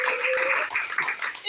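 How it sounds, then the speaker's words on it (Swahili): A church congregation claps together for Jesus during a sermon, a dense steady patter of many hands with voices mixed in throughout. "Pigia Bwana Yesu makofi"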